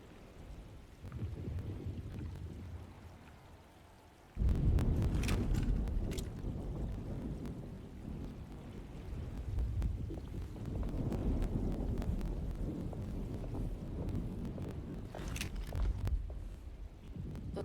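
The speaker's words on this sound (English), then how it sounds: "Looks like a storm's coming" Thunder rumbles low and heavy over steady rain during an approaching storm in the game Alone in the Dark, with a loud close crack partway through and long rolling peals that swell and fade again.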